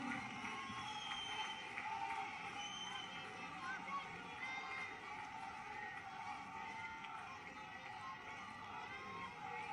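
Large crowd applauding and cheering at a political rally in Una addressed by Prime Minister Narendra Modi, a dense, sustained roar of clapping and voices that barely dips from start to finish.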